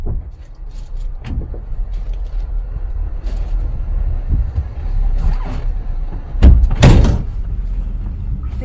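A van's sliding door rattles and clunks as it opens and shuts, with soft handling noises and then a cluster of loud close thuds and a slam near the end, over a quiet background.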